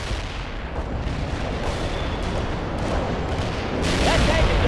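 A heavy artillery barrage rumbles in the World in Conflict video game, dense continuous booming explosions with a low roar that grows louder toward the end.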